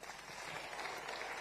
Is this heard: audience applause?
yes